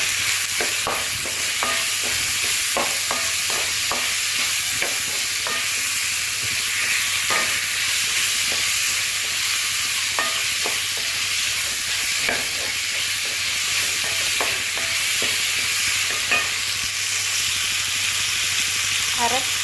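Tomato and spice mixture frying in a pan for village-style karuvadu kolambu, stirred with regular scraping strokes over a continuous loud sizzle and hiss.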